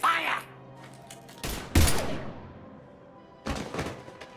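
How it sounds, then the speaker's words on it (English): Gunfire in Mass Effect 3 comes as a few separate heavy bursts with quiet gaps between them, following a brief bit of character speech. "Now open fire!"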